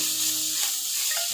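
Ginger garlic paste and green chillies sizzle and spit in hot oil in a pan while cooking mutton kulambu, a steady close frying hiss with a few stir scrapes.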